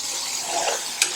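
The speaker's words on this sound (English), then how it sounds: "Give that a mix through." Base gravy is stirred into a mango chicken tikka masala curry in a restaurant-style pan, a brief wet sizzle and scrape with one sharp clink near the end.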